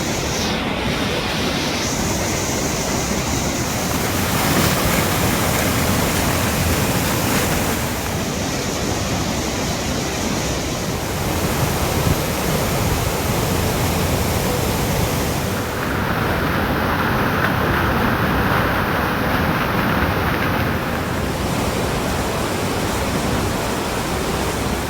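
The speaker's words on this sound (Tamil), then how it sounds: "கோவை குற்றால அருவியில் ஆர்ப்பரித்த வெள்ளப்பெருக்கு. அருவியில் பிரவாகமாய் தண்ணீர் பாய்ந்தோடும் ரம்மியமான காட்சிகள்." Kovai Kutralam waterfall in Coimbatore district, in full flood, pours down in a loud, unbroken rushing roar of water that stays steady throughout, with no voices.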